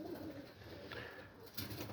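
A pigeon coos softly in the background, faint and close to a hushed ambience.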